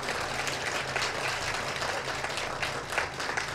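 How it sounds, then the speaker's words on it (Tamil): Audience applause at a Tamil public gathering, a continuous dense crowd clapping that stays steady and full throughout with no voices breaking through. "ஐயா நீங்கள் கொடுக்குற கைத்தட்டு இன்னும் 10 நாள் பத்தாது."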